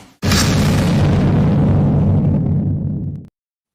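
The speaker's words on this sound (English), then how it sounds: "Boom shakalaka. Explosions." A single long booming explosion effect for a sports betting show intro bursts in suddenly, rumbles heavily for about three seconds, then cuts off cleanly.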